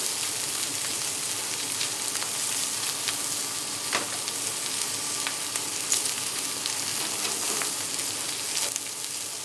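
Porterhouse and ribeye steaks sizzle steadily on a hot griddle top, a continuous close frying hiss with scattered pops and crackles throughout, no talking.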